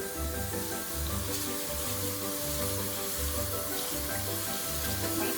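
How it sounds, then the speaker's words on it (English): Rice being washed in water for a Puerto Rican dish, a steady sloshing and running-water wash that continues without pause and with no talking. "And I wash my rice."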